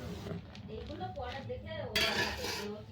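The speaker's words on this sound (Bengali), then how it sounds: "এইভাবে চামচ দিয়ে তুলে নেব" A spoon scrapes and clinks against a pan while lifting fried pitha out, with short metallic knocks and a brighter rattle toward the end, under a voice talking.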